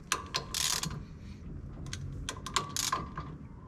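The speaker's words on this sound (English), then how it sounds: "We've got the axle back in, we're doing up the nuts." A ratchet tightening the axle nuts on a 2022 Toyota Landcruiser V8 VDJ79 during rear wheel bearing work gives quick bursts of metallic clicking, several short runs separated by pauses, fairly close and moderately quiet.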